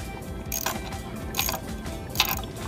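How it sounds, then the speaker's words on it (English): A socket wrench ratchets in short bursts while loosening the motor bolts, three brief clicking spurts spaced evenly against a steady mechanical hum. "Now we're going to use our socket wrench, and we're going to loosen but not remove"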